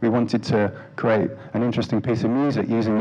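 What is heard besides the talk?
No everyday noises stand out.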